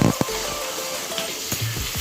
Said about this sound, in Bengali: তাই মুরগির মাংসটা ওর সাথে একটু ভেজে নেব